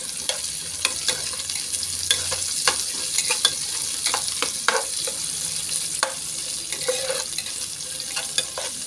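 Sliced onions frying and sizzling in a pan for Filipino escabeche fish, a steady close hiss with scattered pops and stirring scrapes throughout, no talking.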